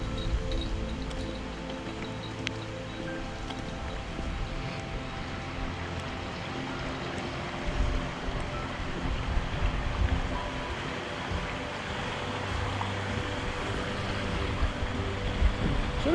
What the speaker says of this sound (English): It's a wee burn thing, like it's not a very big river